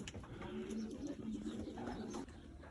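Pigeons cooing in a garden loft, soft repeated low coos, fairly quiet and close, with faint background noise and a voice murmuring nearby.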